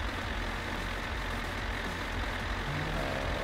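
Tractor engine in the video game My Summer Car drones steadily, a low, rough, continuous rumble heard alone without a break.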